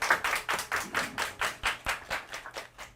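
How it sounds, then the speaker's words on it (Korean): Rhythmic clapping at a festival opening ceremony for a resource recycling event, with about a dozen distinct, evenly spaced claps close by, each ringing briefly in a reverberant space. "박수 보내주시기 바랍니다."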